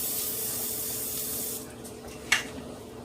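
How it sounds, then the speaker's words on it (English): Cooking spray spritzed onto a brownie pan, a steady hiss for about a second and a half, then a short, sharp burst of spray close by. "we're going to spritz the brownie pan a little bit"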